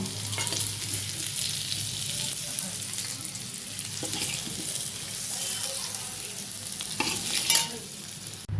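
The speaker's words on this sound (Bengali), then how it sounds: "আলুটা আমাদের লাল লাল করে ভাজা হয়ে এসছে" Steady sizzling of potatoes frying in hot oil, with occasional stirring scrapes and clinks throughout, no talking.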